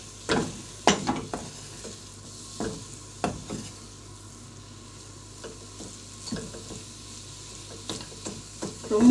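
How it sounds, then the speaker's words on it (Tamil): A mixture is stirred in a pan until it turns crumbly, giving irregular scraping clatters of a spoon against the pan over a soft sizzle, with louder clusters of strokes and quieter gaps between them. "இந்த மாதிரி உதிர ஆரம்பிச்சாச்சுன்னா பண்ணுறது கிண்டுறது ஈஸியாகிடும்."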